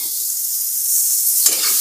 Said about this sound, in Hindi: देखिए आलू भी मेरा ऑलमोस्ट फ्राई हो गया है